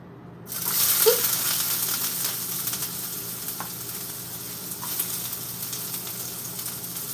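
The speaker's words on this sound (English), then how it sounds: "first I'm going to cook my onions" Onions dropped into a hot pan burst into a loud, close sizzle that settles into steady frying with occasional faint clicks.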